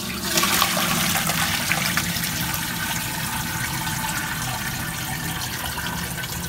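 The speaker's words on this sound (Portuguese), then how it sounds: "Agora é só escorrer aqui no escorredor." Water drains from cooked pasta for shrimp fagottini through a colander in a kitchen, a steady, close rushing and splashing that holds an even level throughout with no talk.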